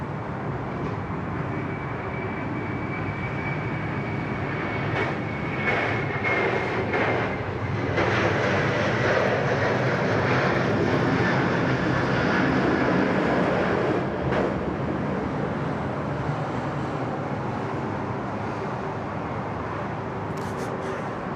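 An airliner landing at Sydney Airport, heard as a loud, steady broadband jet roar that swells slightly in the middle and holds throughout, with no voices.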